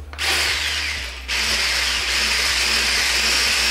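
Electric hand mixer whirring steadily as it beats egg yolks with sugar, loud and close, with a brief dip in pitch partway through and no talking.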